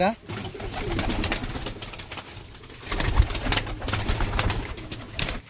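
A pair of Laldum pigeons coo in a loft, low repeated throaty calls amid rustling and shuffling, with a person talking nearby.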